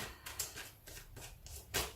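Tarot cards being shuffled by hand, a few papery riffling bursts with brief pauses between them, close and fairly quiet, with no talking.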